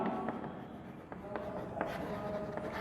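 Chalk or marker writing on a classroom board during a 10th-grade maths lecture, a steady scratchy scrawl with a few sharper taps as strokes begin, heard up close with room noise beneath.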